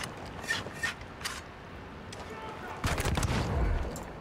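In Ghost Recon Wildlands, a flintlock fires sharp gunshots, a few spaced cracks early and a heavier burst near the end, with a voice heard between the shots.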